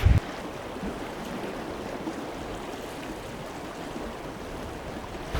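The River Spey flows steadily beside the Moray Coast Path, a continuous soft rushing of water at moderate distance with no voices.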